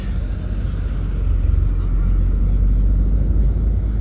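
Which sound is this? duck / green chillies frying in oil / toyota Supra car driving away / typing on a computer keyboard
toyota Supra car driving away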